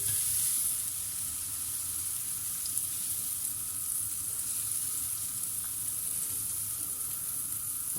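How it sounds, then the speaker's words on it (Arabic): Butter sizzling on oil in a frying pan, a steady broadband hiss that stays even and close throughout with no voices over it. "نطيب بالزبده على الزيت"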